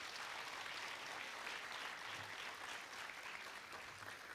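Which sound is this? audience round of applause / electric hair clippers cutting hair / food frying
audience round of applause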